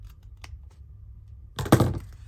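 Paper being snipped with scissors during a craft project, a short crisp rustling cut burst after quiet near-silent background with faint ticks.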